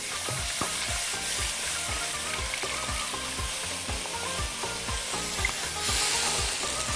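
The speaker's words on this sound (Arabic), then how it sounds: "ونقلب طبعا علشان الدقيق يدوب" A flour roux is stirred with milk in a pan for a sauce: a steady close sizzle under quick rhythmic scrapes of a spoon around the pan, about two strokes per second, with no talking.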